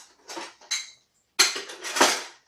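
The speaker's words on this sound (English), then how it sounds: "We're going to search for a measuring spoon." Hands rummage through a drawer of metal kitchen utensils looking for a measuring spoon, making two short clattering bursts and then a louder, longer jangle of cutlery.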